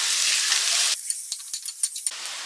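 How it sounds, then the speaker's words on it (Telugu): Onions fry for a squid masala curry, a bright steady sizzle that drops away midway while a spoon scrapes and taps the pan several times, then the hissing returns. "ఇప్పుడు ఈ ఆనియన్స్ మంచిగా కలర్ చేంజ్ అయ్యే వరకు మనం ఫ్రై చేసుకోవాలి"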